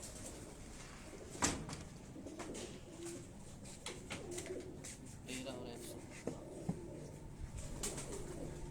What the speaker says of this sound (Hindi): ये दोस्तों एक और कबूतर